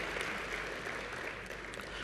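Clapping from a convocation audience, a dense, faint patter of many hands that holds evenly for a couple of seconds.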